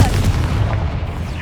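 A Confringo fire spell blast in the Hogwarts Legacy video game, a loud, dense rumbling boom that fills the whole clip.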